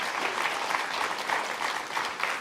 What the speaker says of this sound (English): So let's please do one more round of applause for the class of